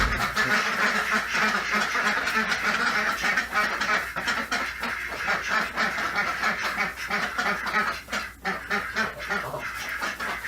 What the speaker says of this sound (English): the ducks are khaki Campbells